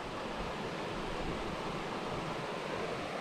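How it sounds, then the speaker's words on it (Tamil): A stream tumbles down near Nambi Kovil in Tirunelveli, giving a soft, steady, even rush of water with no breaks, heard alone. "இங்கே தண்ணி அப்படியே உளுந்து வருது."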